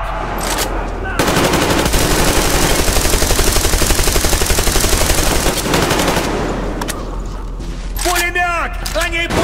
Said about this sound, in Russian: Они пулемет притащили!